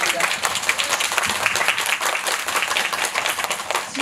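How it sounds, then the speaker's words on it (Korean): A theatre audience at a Korean film premiere special screening applauds a zookeeper, a dense steady wash of clapping under the hum of a large crowd, with voices mixed in. "박철원 스태프님께 큰 박수 부탁드리겠습니다"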